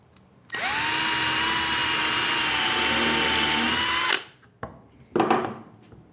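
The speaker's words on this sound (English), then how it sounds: "you're going to take and drill and countersink these." A power drill whines loudly and steadily for about three and a half seconds drilling and countersinking wood blocks, then stops, followed by a couple of short bursts of handling noise.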